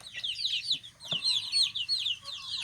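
A flock of baby chicks nestled in a car tyre cheeps constantly in a dense, high-pitched chorus of short peeps, close by, with a faint low murmur underneath.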